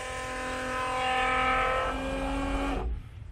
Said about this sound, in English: It feels like something's running through the pump